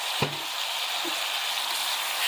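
Soy and teriyaki sauce sizzle in a pan while being stirred, a steady close hiss with a brief knock of the utensil near the start.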